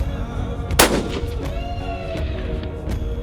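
A single loud, sharp rifle shot cracks out during a plains game hunt for wildebeest in Kimberley, South Africa, and echoes across open country before faint background noise returns.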